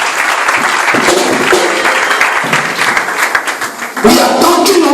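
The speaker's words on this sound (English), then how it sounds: "Celebrate Jesus with the clap of faith." A church congregation claps together in a dense, lively burst, with a louder surge of hands toward the end and some voices mixed in.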